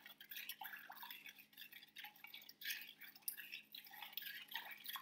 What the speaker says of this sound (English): I'm going to stir it up so it's nice and mixed together.